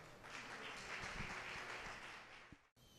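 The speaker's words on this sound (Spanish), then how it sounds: "Recibámosla por favor con un fuerte aplauso" A conference audience claps steadily to welcome a nutrition lecturer, a sustained moderate wash of applause from many hands that fades out near the end.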